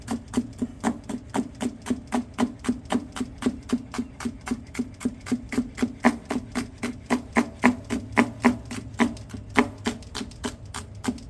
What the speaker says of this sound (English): sounds like this knife needs to be sharpened soon.